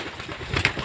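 Racing pigeons coo softly in a loft after a long-distance derby race, a brief low murmur of calls against faint background noise.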